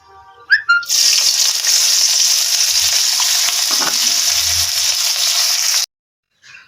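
Washed fish hits a hot pan and fries to a reddish colour, a loud, continuous sizzle that starts abruptly after a brief clatter and cuts off suddenly near the end.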